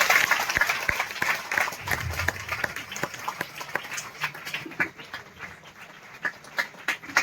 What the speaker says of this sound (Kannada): ಬಹುಶಃ ಬಹಳ ಜೋರಾಗಿ ಚಪ್ಪಾಳೆ ತಟ್ಟಬೇಕು ನೀವೆಲ್ಲ